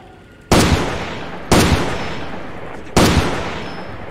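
Three loud, sharp gunshots from the video game Far Cry 2, evenly spaced about a second apart, each a sudden blast with a long decaying echo, over quiet background ambience.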